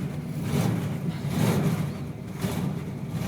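A 1972 Chevrolet Chevelle engine runs just after a cold start in chilly Canadian weather, a low, rough rumble that swells and eases in uneven surges.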